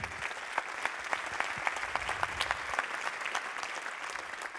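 Audience applause at an on-stage awards event, a steady patter of many hands clapping at moderate distance, fairly soft and continuous throughout.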